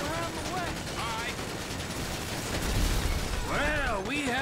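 Rapid automatic gunfire rattles in bursts during a heist shootout in GTA 5, dense crackling shots running under characters shouting to each other.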